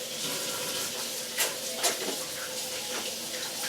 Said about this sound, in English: We're going to rinse our hands real fast